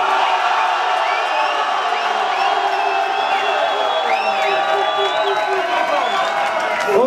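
Crowd at a cross-over rap battle MC event loudly cheering, whooping and shouting in a sustained, dense roar that holds steady throughout, with scattered high whistles and yells on top.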